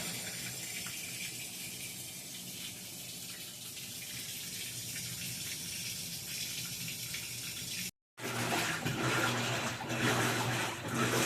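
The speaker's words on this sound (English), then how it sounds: "it started adding more water" A faulty Whirlpool WTW4816FW3 washing machine fills with steady rushing water and a continuous hiss, broken by a brief silence before the flow resumes louder and fuller.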